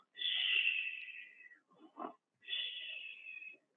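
A voice imitates snoring with two long, drawn-out wheezing breaths and a short snorting grunt between them, fairly faint and heard on its own.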